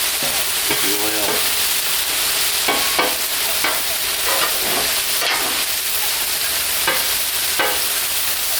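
Carrots and broccoli fry in oil on a Blackstone griddle outdoors in the rain, a steady close sizzle with scattered scraping and stirring clicks, no voices.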